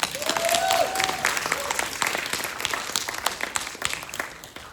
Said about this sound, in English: let's make a round of applause for all those wonderful filmmakers that have worked hard for these films